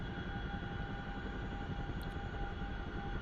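A Chinook helicopter in a flight video game drones steadily throughout, a dense continuous engine and rotor roar with faint tonal whine, loud and unbroken with no talking.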